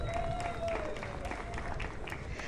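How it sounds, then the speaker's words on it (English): An audience applauds at a World AIDS Day event in Zambia, brief steady clapping at moderate volume with music and a voice faintly mixed in. "Let's give that a big round of applause."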